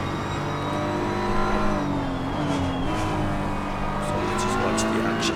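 Audi and BMW race cars in a pack at the Zandvoort circuit, engines droning steadily and revving throughout, with tire noise, loud and continuous under a person talking.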